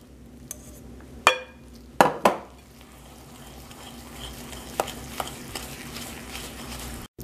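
Cake batter is stirred in a bowl while cooled melted butter is poured in slowly, for a strawberry dome cake. A few sharp utensil knocks against the bowl stand out over a soft, steady mixing hiss.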